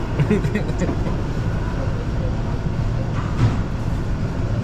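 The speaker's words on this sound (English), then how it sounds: "A lot of activity at this train station." Busy train station ambience in Stockholm, Sweden: a steady low rumble of trains and crowd, with indistinct chatter and footsteps throughout.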